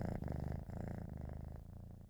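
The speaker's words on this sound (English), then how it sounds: "this is a very happy purring cat" Domestic cat purring contentedly, a close, rhythmic rumbling purr pulsing steadily with each breath, heard alone and fairly faint.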